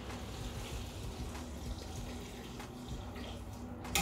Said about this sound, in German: So, jetzt schütten wir 1 Liter Wasser dazu.